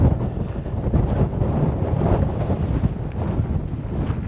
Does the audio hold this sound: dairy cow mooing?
no